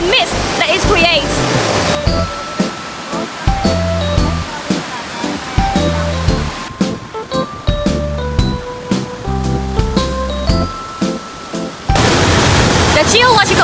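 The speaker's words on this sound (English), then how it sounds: "we're standing here at Great Shark Waterfall, the most powerful cascade in the central highlands of Vietnam" Great Shark Waterfall, the most powerful cascade in Vietnam's central highlands, roars as steady broadband rushing water, loud and full at the start and end, with music over a quieter wash in the middle.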